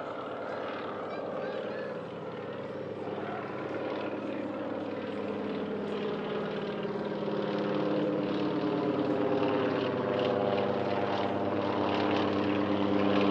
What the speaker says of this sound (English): the parachute team of the French Air and Space Force took to the air aboard an Antonov An-2